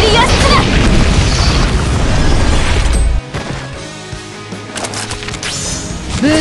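The Endurance Cannon fires in the video game Outerplane: a loud, heavy booming blast rumbles for about three seconds, then cuts off abruptly into lighter crashing impacts, with game voices mixed in.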